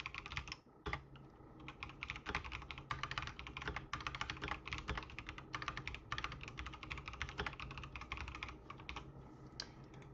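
Typing on a computer keyboard, rapid irregular clacking keystrokes in continuous bursts, close and fairly quiet, with no talking.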